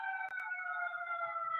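A passing fire engine's siren holds a steady wailing tone at moderate distance for the whole moment, with a couple of faint knocks underneath.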